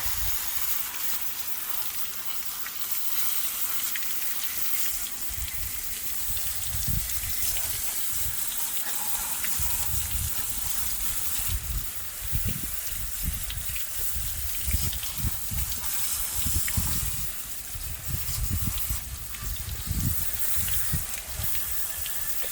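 Pressure water rinse spraying cleaner and grease off a stump bucket, a continuous loud hissing gush with surging splashes as the stream moves across the metal.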